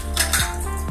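Plates and cutlery clink as they are washed with soap and hot water in a sink. A few sharp, close clatters ring out within a second.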